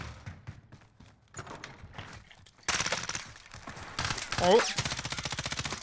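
Rapid bursts of automatic gunfire in a Call of Duty Warzone match, close and loud, arriving in dense repeated volleys toward the end, with a player speaking briefly between shots.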